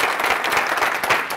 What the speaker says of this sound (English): So please join me in a very warm welcome for John Seddon.